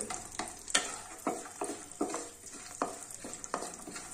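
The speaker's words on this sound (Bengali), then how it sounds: "এটাও একটু হালকা করে নাড়বো" Dry nuts stirred lightly in a pan for sugar-free protein laddoos, a series of distinct scraping and rattling strokes roughly every half second, close and fairly quiet with no talking.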